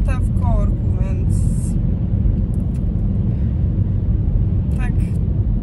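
A car creeps along in a traffic jam. A low, steady interior rumble continues throughout, with brief higher chirps and squeaks near the start and end.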